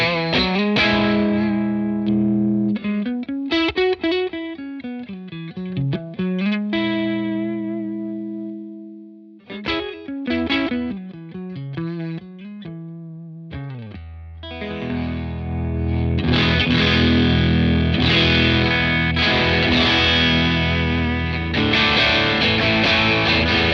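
Electric guitar played through a modded Bad Cat Black Cat 30 amp with a crunchy, driven tone, loud and close: chordal strums and single-note lines give way to a thick, saturated chord wash near the end.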